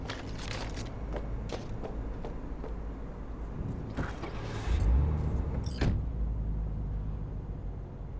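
Car driving in Cyberpunk 2077, a steady engine drone with tyre and road rumble, scattered creaks and mechanical clicks, and a louder surge of low engine noise partway through; no talking.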